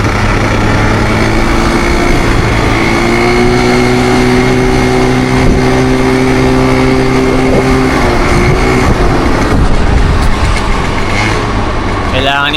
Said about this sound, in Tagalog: Kailangan ito ng carb, hirap siya. Rinig yun naman sa takbo, pakinggan nyo.